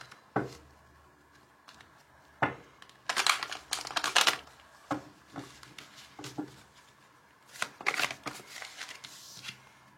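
A deck of cards for a card reading is shuffled nearby with soft riffling and flicking, in several uneven bursts separated by quiet gaps, with no one talking.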